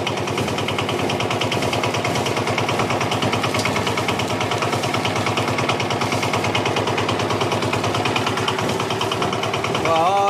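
Kurkure snack making machine running, a loud, steady, rapid mechanical chugging with engine-like knocking that continues evenly throughout at close range, with no speech heard.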